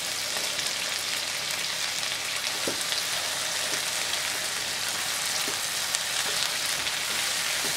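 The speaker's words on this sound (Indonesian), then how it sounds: "Langsung masukkan pete." Petai beans frying in a pan of oil with shallots, chili and shrimp paste, a steady close crackling sizzle with occasional soft taps and stirs, heard alone.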